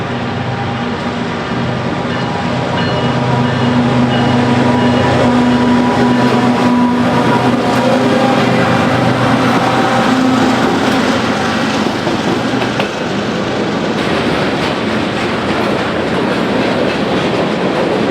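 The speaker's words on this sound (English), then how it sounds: "the westbound manifest continues creeping behind the Portland Z train" A BNSF westbound manifest freight train rolls slowly past nearby, a loud continuous rumble with steady clickety-clack of wheels and a sustained low tonal drone, no voices.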